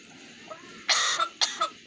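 A hybrid myna bird mimics a human cough, giving a few short, raspy cough-like bursts close by after a brief quiet stretch, with faint background noise.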